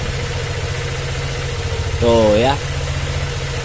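A Honda Vario 125/150 scooter running without a battery idles steadily up close, with a broken charging wire; a brief spoken remark rises over the engine midway.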